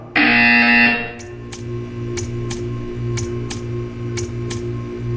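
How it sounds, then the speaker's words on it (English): A loud electronic buzzer from the video game Portal 2 blares for about a second, followed by steady ticking clicks over a low background hum. "You will hear a buzzer."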